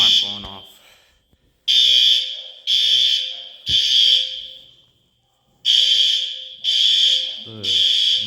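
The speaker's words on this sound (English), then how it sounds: "Another day, another alarm going off." A fire alarm in a residence hall sounds in loud, repeated high-pitched blasts of roughly a second each, with short gaps between them and a longer pause in the middle. A voice speaks briefly at the start and again near the end.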